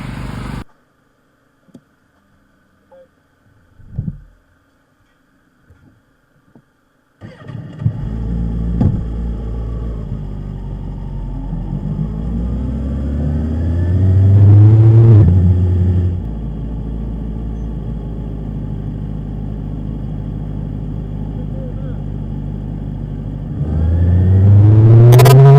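Clubman 600 racing motorcycles at Donington Park sit nearly silent, then explode into loud, rising engine revs at the race start, holding a sustained roar that swells, dips and surges again as the bikes pull away.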